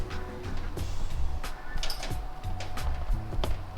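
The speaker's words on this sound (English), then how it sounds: "you're going to take out these 4 screws" A Phillips screwdriver backs four screws out of an upturned Honda Grom rear fender, giving close, irregular clicks, scrapes and small plastic rattles over a low steady background hum, with no talking.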